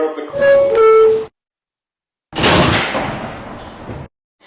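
An R160B subway train on the D line sounds a two-tone chime, then after a short silence its doors close with a sharp burst and a fading rushing hiss.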